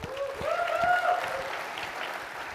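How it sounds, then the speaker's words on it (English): Audience applause at an IT industry conference welcome keynote in a hotel venue, a steady wash of many hands clapping that swells and holds throughout, with a faint voice or whistle tones riding over it. "Give a round of applause for that."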